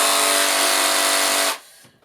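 A battery-powered reciprocating saw cuts through pallet wood with a loud, steady buzzing rasp that runs unbroken for about a second and a half, then cuts off abruptly and leaves quiet room noise behind.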